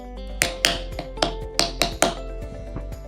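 Sharp dry taps on a freshly cut wooden part of a Kelantan serunai, about a dozen close, crisp knocks in an uneven rhythm, each ringing briefly over a steady low hum.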